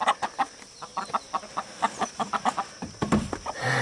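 Chickens cluck in quick, agitated bursts, nervous at a nearby dog or animal, a steady run of short calls close by, with some shuffling noise toward the end.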